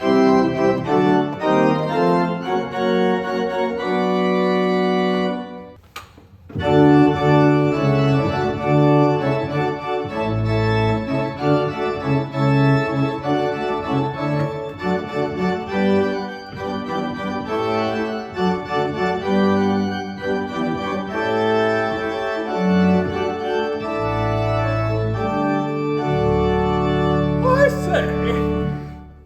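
Full, bright pipe organ chords with a shimmering high mixture sound, sustained and changing over half a minute, with a brief pause near the start.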